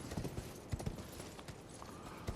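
Horse hooves clip-clop in the Macbeth video game, an irregular series of soft thuds and knocks at a trotting pace, fairly close and moderately quiet.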